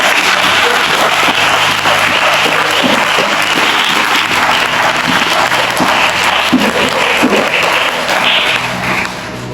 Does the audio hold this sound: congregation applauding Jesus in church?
yes